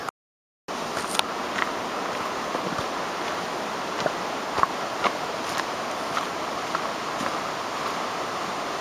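Steady rushing water of a stream near Queen Mary Falls, a continuous broad wash filling the scene after a brief silent start, with faint scattered clicks and footsteps over it.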